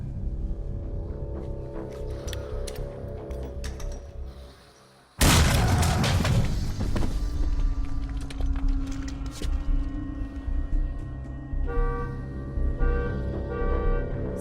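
Grenade blast in a film scene, a sudden loud boom with a burst of debris that cuts through a quieter, tense background and decays over a few seconds before mechanical sounds and movement return.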